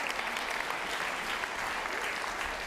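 Steady, dense audience applause fills a science lecture hall at Berkeley Lab, many hands clapping evenly at close range with no break.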